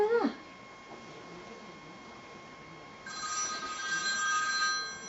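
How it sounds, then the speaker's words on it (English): A telephone rings with a steady electronic tone that carries through most of the stretch and grows louder near the end, in an otherwise quiet indoor room. "Oh, Louise, you're ringing me at the wrong time."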